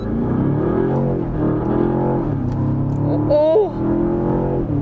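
A Land Rover Defender Octa with a twin-turbo V8 and mild-hybrid system launches hard on a kart track, its engine note climbing and droning through the gears, then easing off near the end.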